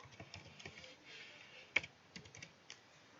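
Scattered keystrokes on a computer keyboard typing a short word, light irregular clicks at close range in a quiet room with no voices.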